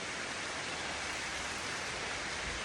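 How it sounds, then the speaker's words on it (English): Heavy tropical rain pours down over a swimming pool at a Sri Lankan guesthouse, a dense, loud, unbroken hiss that fills the whole moment with no other sounds. "It's fucking this heavy rain"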